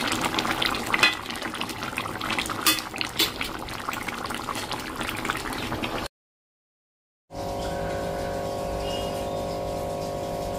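Meat and potato curry bubbles hard in a pan on high heat as its gravy cooks down, a loud, close, dense seething for about six seconds, then a brief total silence followed by a quieter, steadier hum.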